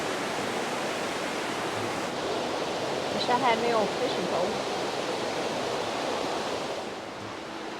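Steady broadband rush of water flowing in a stream beside a camping spot, continuous throughout, with someone speaking briefly over it.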